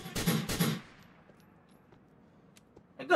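Two quick bursts of automatic gunfire in the video game GTA 4, sharp and loud at the start, then fading into a quiet lull with faint scattered sounds before another shot lands at the very end.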